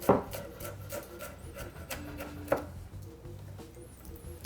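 A knife chopping onions and other vegetables on a board in quick, uneven strokes with scraping and rubbing between cuts, close by and fairly loud, no talking.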